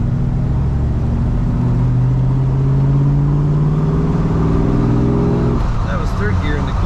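A 1964 Ford Galaxie 500 XL driving in third gear at low RPM, its engine humming steadily and loudly with a slowly rising drone before easing off.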